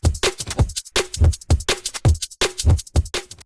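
Time-stretched hip hop or house drum loop sample for a breakcore track, with punchy kicks and sharp snares and hats repeating in a steady, loud pattern.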